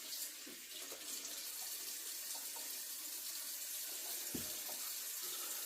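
A kitchen tap runs steadily as leeks are rinsed in the sink, with faint splashes and a few knocks under the constant flow of water. Nobody speaks.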